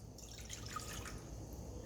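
Water trickles and splashes as it is poured into a pan to mix with milk and oil for Brazilian cheese bread, a soft, close liquid sound with no voices.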